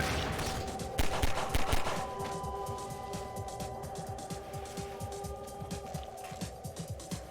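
A machine gun in Half-Life 2 rattles off in rapid bursts, loudest early and then continuing as a dense stream of shots over a low hum, with no talking.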